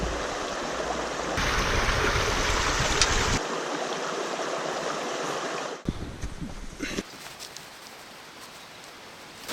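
A river flowing at a bush survival camp, a steady rushing hiss of moving water, close at first and then quieter and more distant, with no talking.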